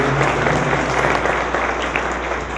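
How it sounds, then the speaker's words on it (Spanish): Audience at a regulatory reform panel event applauding the panel speakers, a dense, loud, continuous burst of clapping that fills the whole moment. "Les pido que me acompañen brindándoles un aplauso"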